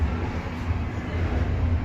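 Steady low rumble of a train rolling along the rails, arriving in Berlin, continuous and fairly loud, with no distinct clatter and no voices.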